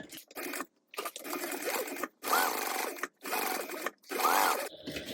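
A sewing machine bastes fabric at an eighth-inch seam in quick, close bursts of rapid stitching. Several short runs are broken by brief pauses.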